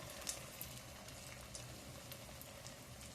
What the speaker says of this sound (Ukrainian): Олійка гарно так шкваркотить.